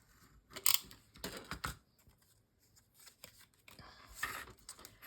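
Scissors snip through a paper piece for a junk journal pop-up feature, a few close, quiet crisp cuts in short bursts with pauses between.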